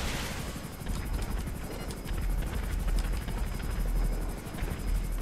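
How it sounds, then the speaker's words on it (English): Helicopter flying in GTA V Online, a steady close rotor chop with rapid thumping pulses and a whining engine tone, continuous and loud with no talking. "I've never seen this helicopter before, Doug"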